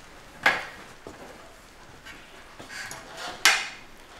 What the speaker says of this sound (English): we're removing these very small two-piece rivets. They just pull apart very simply.